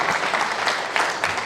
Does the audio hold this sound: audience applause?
yes